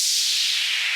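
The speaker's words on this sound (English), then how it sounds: "just simple white noise based." A white-noise downlifter effect for afro house production: a steady, loud hiss of bright noise that slowly thins and drops in pitch over about a second, heard alone.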